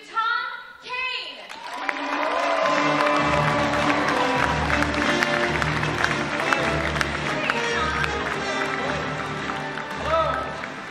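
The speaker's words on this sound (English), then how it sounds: "So please give a huge round of applause to Tom Kane." Crowd at a Star Wars Weekend stage show at Disney's Hollywood Studios breaks into sustained applause and cheering for a voice actor, a broad wash of clapping and shouts that rises quickly and holds steady at moderate distance.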